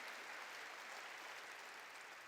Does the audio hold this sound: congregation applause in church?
yes